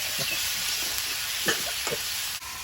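Tiger prawns go into vegetables already frying in a pan, raising a steady close hiss and sizzle broken by a few soft stirring knocks.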